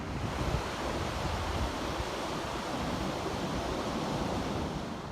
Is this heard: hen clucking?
no